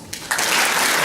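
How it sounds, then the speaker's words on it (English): A conference audience bursts into applause once on cue at the PODIM Conference 2016 opening, a short, loud, dense wash of clapping that starts suddenly after a brief quiet moment. "Can we just applaud once?"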